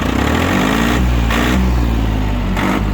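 A used Mitsubishi 18 hp Japanese mini tractor with a rotary tiller runs loudly up close, its small engine revving up in several surges over a steady rumbling idle, with no talking.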